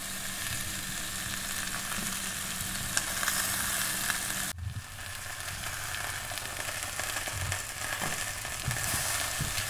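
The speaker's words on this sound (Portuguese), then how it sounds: "aqui eu começo com o frango caipira temperado com sal, pimenta do reino, páprica, e aí tem que deixar ele bem douradinho na panela" Seasoned free-range chicken pieces browning in a pan in their own melted fat, with no added oil, give a steady close sizzle and frying crackle throughout, with occasional stirring clatter and a brief dip midway.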